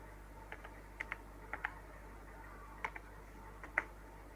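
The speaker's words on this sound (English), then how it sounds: "I am typing the phone number." Scattered keystrokes on a computer keyboard as a phone number is typed in, faint and close, a few separate taps and short clusters over quiet room hiss.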